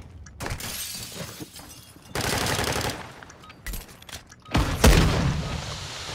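Video game gunfire crackles and bursts in rough, noisy volleys, with a louder stretch in the middle and a heavy, booming hit near the end.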